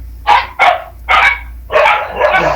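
Dogs bark close by and loudly, about five sharp woofs in an uneven rhythm with short gaps, with a faint low hum underneath.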